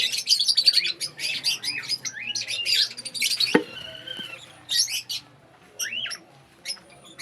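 African lovebirds in a cage giving bursts of shrill chirps, squawks and high twittering calls, close and lively with brief pauses and a sharp clack midway.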